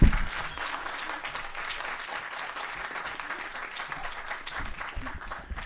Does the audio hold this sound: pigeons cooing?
no